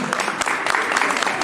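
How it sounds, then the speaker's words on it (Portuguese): Audience members at a lecture clap briefly in a short, loud burst of many hands, heard up close. "eu peço que vocês dêem um salve de palmas para ela"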